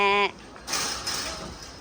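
A single short goat bleat opens at Tai Tong Eco Park, followed by quieter rustling and background noise.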